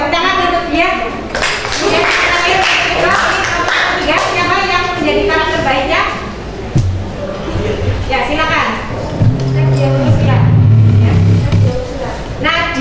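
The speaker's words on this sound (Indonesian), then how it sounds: "tepuk tangan untuk dia" Brief burst of classroom clapping for a student group, mixed with children's chatter and a teacher's voice; the applause is moderate and partly buried under talk.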